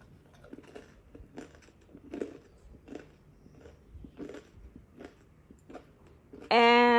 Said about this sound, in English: I couldn't resist, so I had to take a bite, and you can hear that